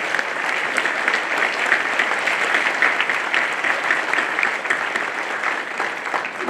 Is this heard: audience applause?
yes